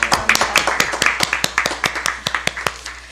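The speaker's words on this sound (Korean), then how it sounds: "큰 박수 부탁드립니다." Scattered audience clapping at a flower bouquet presentation, distinct individual claps in a loose, uneven rhythm, fairly close and moderately loud.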